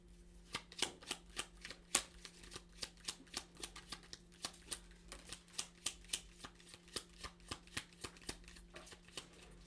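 Tarot cards being shuffled in a steady run of crisp riffling flicks, about twenty-five close, even snaps over a faint steady hum, with no voices.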